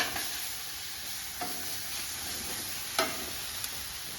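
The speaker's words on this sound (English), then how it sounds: "why not throw some green chilies on and get those cooking up" Green chilies sizzle on a hot outdoor griddle, a steady close frying hiss with faint stirring scrapes and small pops, no voices.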